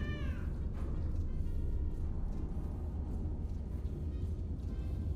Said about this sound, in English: We have cat.